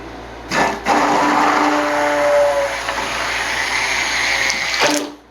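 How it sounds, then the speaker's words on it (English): A stick blender whirs steadily through cold process soap batter, with a continuous close motor hum and liquid churning that stops abruptly at the end. "now I'm going to stick blend it with my new stick blender to emulsification"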